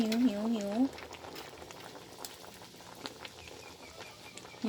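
Bamboo shoot curry with wood ear mushrooms simmers in a pot with a soft, continuous bubbling, faint and steady, while a voice talks briefly at the start and end.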